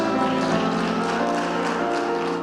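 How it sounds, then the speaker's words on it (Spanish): A church congregation claps steadily and loudly, a dense continuous wash of applause with no pauses. "Si va a aplaudir, aplauda fuerte de verdad"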